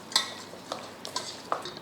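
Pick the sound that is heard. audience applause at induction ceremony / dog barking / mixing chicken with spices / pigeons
mixing chicken with spices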